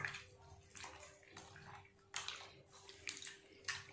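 Maida dough being washed by hand in a basin of water, sloshing and splashing in repeated bursts roughly every half second, close by, over a faint steady hum.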